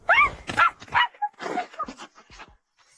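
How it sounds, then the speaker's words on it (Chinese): A puppy gives a quick run of high, yappy barks and small whimpering yips, close and fairly clear, with short gaps between them that fade toward the end. "小狗狗出来吧"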